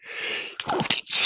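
A single sharp human sneeze erupts during a live game-show stream, a breathy intake followed by an abrupt burst, close and loud, alone with no talk over it.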